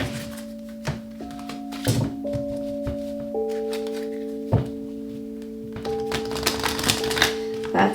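Tarot cards are shuffled by hand in a series of quick riffling bursts and taps, close up, over a steady low musical drone.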